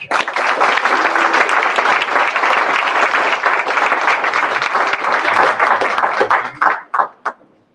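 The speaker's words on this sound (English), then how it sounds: "let's give a warm applause and welcome to the Los Angeles Urban League board chair, Mr. Keith Drake." A large audience gives sustained, loud applause welcoming the Los Angeles Urban League board chair at a conference gathering, dense clapping that thins out into a few last claps at the end.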